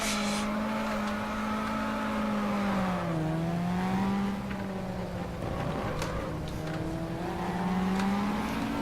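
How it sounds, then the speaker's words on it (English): Formula Ford race cars lapping at Croft in the racing game Race 07, a continuous near engine drone rising and falling in pitch through gear changes, with other cars buzzing around it. "Just want to get out of the way of those cars"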